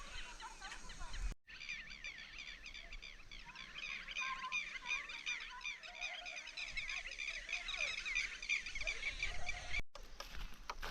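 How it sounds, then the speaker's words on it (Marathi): A dense chorus of many birds, including crows, lapwings and bulbuls, calls continuously outdoors at dusk, honking and chattering together at moderate distance with no pauses. "सगळ्या पक्ष्यांचा दणका उठतो नुसता"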